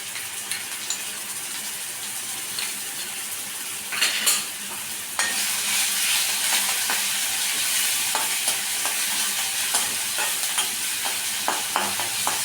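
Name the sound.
onion paste frying in a pan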